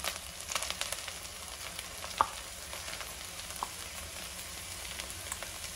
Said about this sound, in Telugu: అల్లం వెల్లుల్లి వేసుకొని అట్లనే మనం గ్రైండ్ చేసి పెట్టుకున్న కొత్తిమీర, పుదీనా, పచ్చిమిరపకాయలు, హోల్ గరం మసాలా ఈ పేస్ట్ కూడా వేసేసుకుందాం